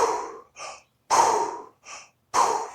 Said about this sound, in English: you do your recovery breaths